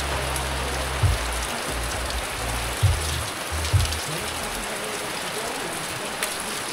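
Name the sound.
rain falling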